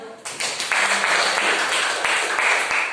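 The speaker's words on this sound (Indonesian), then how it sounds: "Yuk tepuk tangan." A classroom group breaks into applause after a presentation, a dense, steady patter of many hands that swells quickly and holds for a few seconds.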